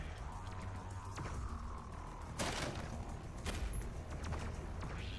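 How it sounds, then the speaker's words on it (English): Gunfire and explosive blasts from the video game Doom Eternal, a dense, continuous barrage of loud shots and booms with sharp bursts punctuating a constant roar of game noise. "Someone's firing something."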